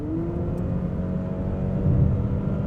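A Honda CR-V 2.0L e:HEV hybrid accelerates in Sport Mode, heard from inside the cabin as a steady, rising engine drone and whir with a low rumble. No speech.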